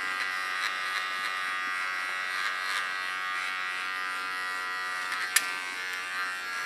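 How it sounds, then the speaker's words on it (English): Electric hair clipper buzzing steadily and close throughout while cutting a short asymmetric pixie haircut, with a brief sharp click near the end. "don't lean on the clipper"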